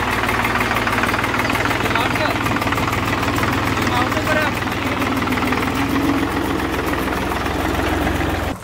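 A tractor engine running continuously on a farm, a loud close rumbling idle with steady mechanical knocking and vibration, with a voice talking over it.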